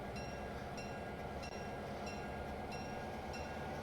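A diesel locomotive loads up on Cape Rail in a train simulator game, giving a steady, heavy engine drone and rail rumble. Faint rhythmic clicks recur about every half second, with no voices.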